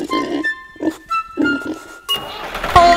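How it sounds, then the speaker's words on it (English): A pig oinks in a children's farm-animal song, giving several short nasal grunts in quick bursts, with a louder, brighter sound at the end. "With a oink oink here and a oink oink there."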